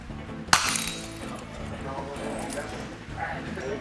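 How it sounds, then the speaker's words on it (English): A thin glass light bulb dropped and shattering, one sharp loud crash followed by tinkling fragments and rattling that fade over a few seconds, heard close up. "I can drop this light bulb once in a while"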